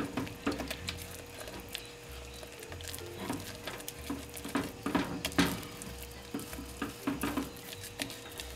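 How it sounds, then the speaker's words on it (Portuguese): Cornmeal being stirred into near-boiling liquid in a pot, with wet scraping and sloshing strokes recurring steadily, close and moderately loud, plus a faint sizzle beneath. "Vou adicionar a farinha de milho e vou misturar"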